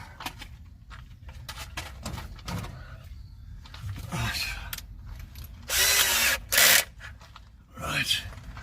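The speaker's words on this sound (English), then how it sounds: "we'll drill a hole first so we know where we're going." A power drill bores a hole while a diesel heater is being fitted, with two loud bursts of whirring drilling near the end, separated by a short pause, amid earlier clunks, handling noises and someone talking.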